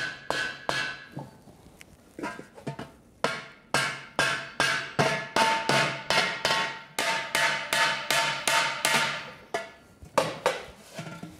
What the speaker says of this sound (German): Nach dem Heften tun wir noch Nieten hinhauen